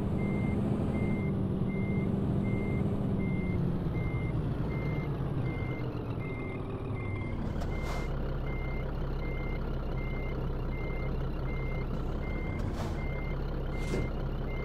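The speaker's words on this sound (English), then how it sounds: "We'll back up underneath it and hook up." A Scania truck in a driving simulator game backs up, its reversing alarm beeping at a steady, evenly spaced pace over a loud, continuous engine rumble, with a couple of brief hissing bursts and no talking.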